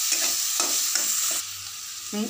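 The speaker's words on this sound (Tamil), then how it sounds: "பெரிய வெங்காயம் நாலு வெங்காயம் பொடி பொடியாக நசுனது போடுறேன்" Finely chopped onions, four large ones, hit hot oil in a pan for a channa masala, giving a loud, steady sizzle with a few stirring scrapes; the hiss drops slightly partway through.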